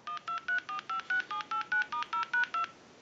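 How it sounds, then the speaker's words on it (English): A quick, evenly spaced run of about twelve redial keypad tones from a BellSouth clear Trimline telephone beeps out in a steady rhythm, clear and close with no talking. "We can hit redial."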